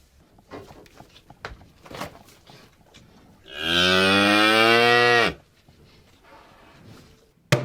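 A cow on a French livestock farm gives one long, loud, close moo that rises and holds for nearly two seconds, with faint clicks and rustling before and after.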